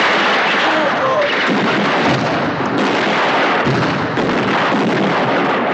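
Cannon artillery fire in a war film set in Italy, a barrage of loud heavy booms and blasts rolling one after another over a dense battlefield din, with a voice talking over it.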